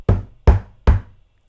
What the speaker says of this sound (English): My mum knocked angrily on my door